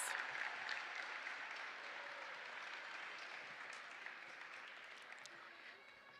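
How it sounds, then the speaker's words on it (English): Applause from a crowd at a high school graduation ceremony, a soft, distant and steady wash of clapping that continues throughout and slowly tapers. "Let's give one more round of applause for Mr. Lenin's advisory class."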